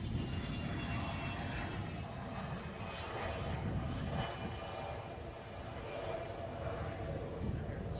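Airliner engine roaring steadily and loud at Edinburgh airport, a continuous broad rumble with surging tones, with some talk nearby.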